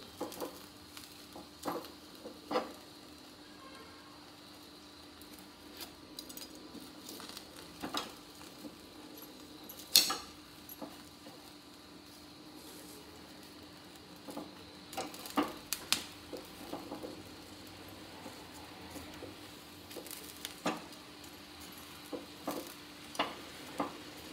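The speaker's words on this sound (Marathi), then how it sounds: "कांदा पण शिकतोय बघा चांगला।" Onion and garlic roasting in a dry pan for a Maharashtrian watan masala, a faint low sizzle with scattered small crackles and pops, quiet and close, with no talk.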